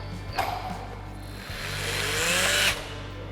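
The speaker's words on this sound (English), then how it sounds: "I'm going to show you the simple way to snug a nut using our rundown feature." Lithium Series II power tool gun running down nuts, two close whirring bursts, the second a longer rising spin that stops abruptly.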